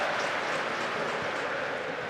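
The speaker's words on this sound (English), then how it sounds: "Gets a round of applause" Football crowd at a Sunderland versus Leeds United match applauding a player's play, a steady broad wash of distant clapping that holds evenly throughout without breaks.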